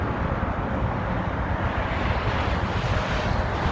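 Steady outdoor wind roars and buffets the microphone as a continuous broadband rush with no pauses, loud and close from start to finish.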